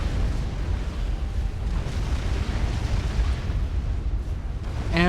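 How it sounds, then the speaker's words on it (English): Nuke detonating on an enemy base in Supreme Commander: Forged Alliance, a sustained loud rumbling blast with crackling debris rolling on for several seconds. "this nuke gonna get a huge explosion onto the base of KK2 and kill off the commander"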